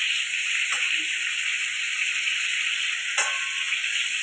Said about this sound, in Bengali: পটল ভাজা হয়ে গেছে